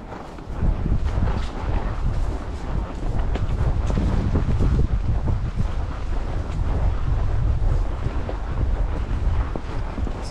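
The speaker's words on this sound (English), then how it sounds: "Pretty windy today too." Strong wind blows across the microphone at a horse camp in Paul Grist State Park, Alabama, a loud, continuous low rumble and buffeting that barely lets up throughout.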